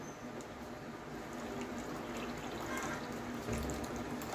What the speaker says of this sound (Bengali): তো এবার দিয়ে দেব জল।